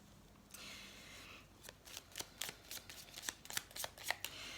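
Tarot cards are handled and drawn, with a soft sliding rustle followed by a quickening series of crisp snaps and flicks from the card stock, close and quiet.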